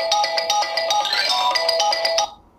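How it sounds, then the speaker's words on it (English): A phone ringtone preview from the Espier Dialer app plays a bright, rhythmic electronic melody of repeated tone pulses for about two seconds, then cuts off abruptly. "You can set the ringtone from here."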